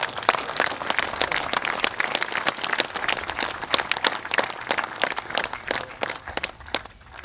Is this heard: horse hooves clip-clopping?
no